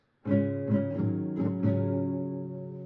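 Four quick strums on an acoustic guitar play the chords of a song at a slightly faster pace, close and clear, ending in a sustained ring.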